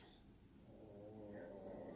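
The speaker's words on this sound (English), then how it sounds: "Sorry guys if you hear Bronco snoring." A dog named Bronco snores while asleep in a quiet living room, a faint, slow rasping breath that swells gently toward the end, with no talk over it.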